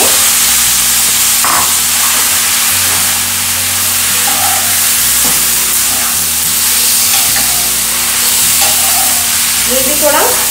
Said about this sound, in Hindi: ये भी थोड़ा सॉफ्ट होने तक हम इसे फ्राई करेंगे।